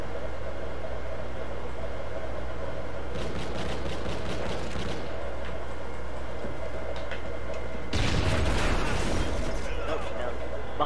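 An MTS shotgun firing in the multiplayer shooter Call of Duty: Ghosts, with sharp clicks and one heavy, loud blast near the end, under a player's ongoing talk.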